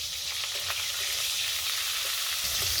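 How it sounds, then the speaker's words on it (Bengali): Dried red chili and panch phoron tempering in hot oil, a dense, continuous sizzling hiss with faint crackles, close and steady throughout. "একটা শুকনো লঙ্কা নিয়েছি আর কিছুটা পাঁচফোড়ন নিয়েছি আমি এবার ফোড়ন করে নেবো"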